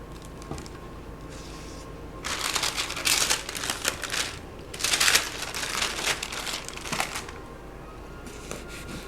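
A knife cuts lengthwise through a roasted spaghetti squash, making crackly, crunchy bursts of rasping and crinkling that come in two or three close, uneven surges with brief quieter gaps between.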